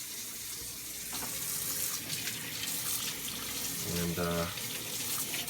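Tap water runs steadily into a sink for rinsing while juicing produce. The flow is close and continuous, and a voice speaks briefly over it.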